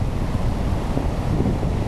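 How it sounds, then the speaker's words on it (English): Small ocean waves wash in at New Smyrna Beach in Florida, a loud, steady broadband rush heavily mixed with wind buffeting the microphone, with no voice. "Here comes some waves. They're not very big"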